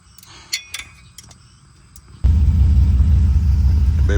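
A Chevy C10 with a 5.3 LS engine and freshly serviced spark plugs starts up after a few quiet metallic clinks, then settles into a loud, close, steady idle rumble that runs to the end.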